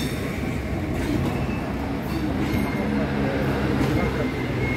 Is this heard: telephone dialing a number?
no